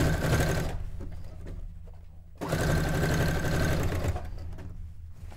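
A sewing machine stitches a three-step zigzag in two loud, close bursts of rapid mechanical whirring separated by a short pause.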